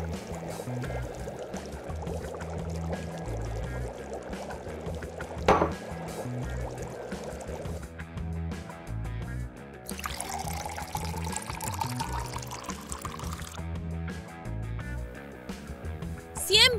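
Water being poured to make tea, a splashing pour whose pitch climbs as the vessel fills, set under steady background music with some talking.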